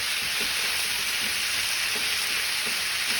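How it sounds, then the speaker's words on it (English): Potatoes and onions frying in grease in a pan, a steady bright sizzle with faint occasional pops and stirring, close and constant throughout. "Everything's starting to kind of fry a little bit."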